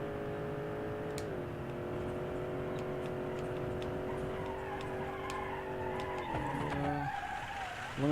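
Tires skidding on a DH Outlaw fitted with rally tires while offroading in Utah in BeamNG.drive, a steady engine drone with a long sliding tire squeal that shifts pitch in the corner, mixed with small ticks and clicks.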